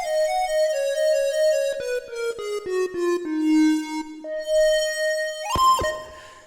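A bright, reedy electronic wind instrument (EWI) synth lead, clarinet-like, plays a gliding, descending melody with sustained notes, ending in a sharp bending flourish; no voices.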